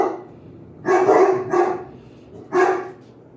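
Indoor dogs bark at cats outside: three loud, close barks, two in quick succession and a third after a short pause, over a quiet kitchen background.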